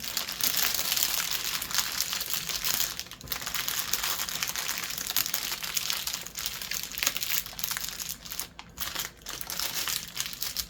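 A plastic bag of diamond painting drills is pressed shut along its adhesive seal, giving close, continuous crinkling and rustling of thin plastic with brief pauses, no talking.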